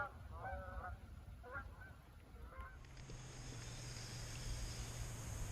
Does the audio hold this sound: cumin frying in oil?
no